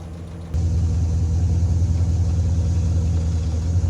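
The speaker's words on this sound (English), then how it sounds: "it is knocking something severe" A Dodge Durango engine with a severe knock runs close by as a steady, loud, low rumble that swells a little after a moment and holds, with no voices.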